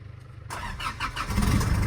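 A 2009 Isuzu D-Max 4x4 with a remapped 2.5 diesel engine and a single exhaust pipe cranks and fires after a short silence. It settles at once into a steady, close, rumbling idle.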